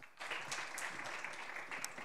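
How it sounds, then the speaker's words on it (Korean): Faint, distant applause from a seminar audience in the Sejong City Hall auditorium greets a research fellow taking the stage, a soft steady patter of many hands. "여러분 큰 박수로 맞아주십시오."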